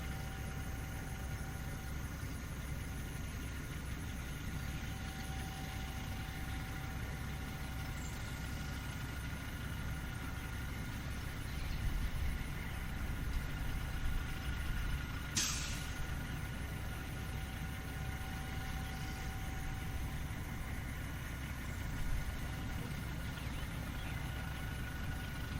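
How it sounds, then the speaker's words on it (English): A pumper truck engine idling steadily at a distance at a well site, a low continuous rumble with faint thin tones above it and no talking. "He'll fire up the engine,"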